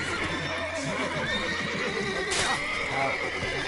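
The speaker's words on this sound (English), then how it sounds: "Got to calm all the horses before they wake the guards." Horses neigh and whinny in The Witcher 3 under a steady bed of ambient noise and soft hoof clops, with one high whinny standing out midway.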